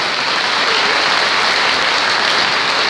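A Catholic congregation at a Mass celebrating a friar's tenth ordination anniversary claps together in a dense, loud, continuous burst of applause filling the church.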